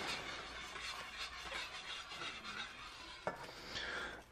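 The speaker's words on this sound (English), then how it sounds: "Good time to tip in your bacon. I've already chopped that up into bits. You want to stir that for about 2 or 3 minutes." Bacon bits being stirred into a creamy carbonara sauce in a pan make a continuous soft scraping and rubbing stir with one sharper utensil knock near the end, heard alone at moderate level.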